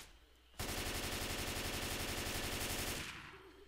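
Sustained rapid automatic gunfire from the Left 4 Dead 2 video game, a dense rattling burst lasting around two and a half seconds at steady volume, then cutting off into quiet.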